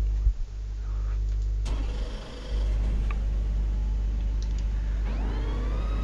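A BMW M6 GT3 in a racing video game at Suzuka: a loud, steady engine drone with a strong low hum, a sudden change in pitch as the revs shift, then a rising whine as the car accelerates.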